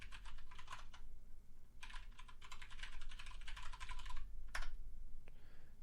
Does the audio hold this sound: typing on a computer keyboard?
yes